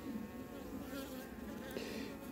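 Honeybees buzz steadily at an opened hive with a weak colony and larvae in the cells, a close, continuous hum with no talking.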